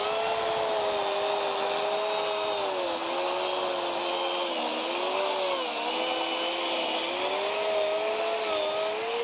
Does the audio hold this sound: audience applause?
no